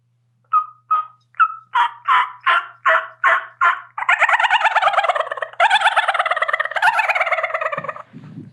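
Turkey gobble, imitated or made on a call during a turkey hunt: about eight sharp, evenly spaced yelping notes, then a long, loud, rattling gobble close by, with no talking.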